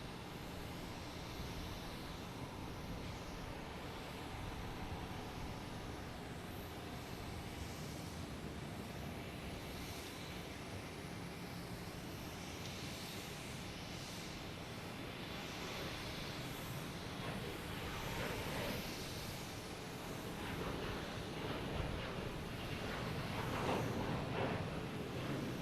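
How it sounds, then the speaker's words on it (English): A Delta Boeing 757 airliner landing at Boston Logan gives a continuous, broad jet roar that swells slightly toward the end, heard from a distance among airport ambient noise. "Delta 757 coming in from LAX."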